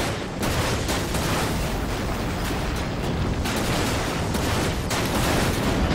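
Rapid gunfire rattles continuously in the video game Dirge of Cerberus, a dense, loud barrage of shots with booming impacts and no voices.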